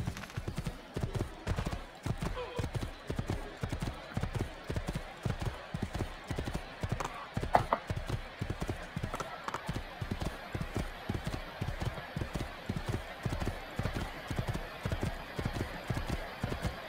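Rapid rhythmic hoofbeats of a horse galloping in the video game Assassin's Creed 2, steady and continuous for the whole stretch, moderately loud with no talking.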